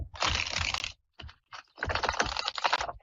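A deck of tarot cards is shuffled during a live psychic reading show. Two bursts of crisp, rapid riffling and flicking are separated by brief taps, heard close with no voices.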